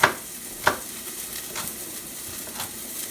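Chopped onion frying in a pan on the stove for Russian pelmeni soup: a steady, soft sizzle close by, broken by a few sharp clinks and scrapes of stirring, with no talking.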